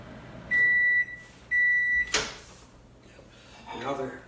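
Microwave oven beeping twice in steady tones, followed by a door clunk as chocolate or candy melts are taken out partway through melting; quiet kitchen with faint movement after.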